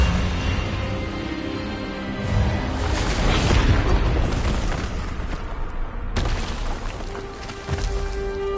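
Expelliarmus spell cast in the Hogwarts Legacy video game, a loud booming magical burst that swells and crashes, followed by a sharp cutoff and lingering rumble, with no talk.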